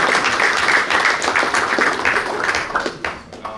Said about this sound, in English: we can clap it up for the parents.